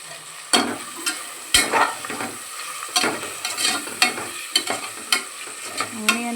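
Onions fry in a pan for egg biryani, with a soft sizzle beneath repeated close scrapes and clinks of a spoon stirring them at an uneven rhythm.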